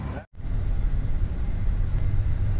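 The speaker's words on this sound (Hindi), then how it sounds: "गाड़ी को चला के चेक करते हैं" A Toyota Hiace Grand Cabin van being driven, its engine giving a steady, close rumble of road and motor noise after a brief silent gap at the start, with no talk over it.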